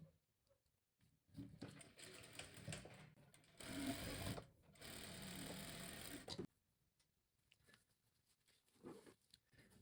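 A sewing machine stitching patchwork quilt pieces runs in loud steady whirring bursts, starting and stopping several times, with quiet pauses between runs.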